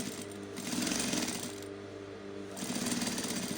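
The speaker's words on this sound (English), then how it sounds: "you just top stitch on top of your fabric like this." A sewing machine top-stitches along a zipper seam on a garment, with a steady, rapid mechanical clatter close by that runs throughout with slight swells in loudness.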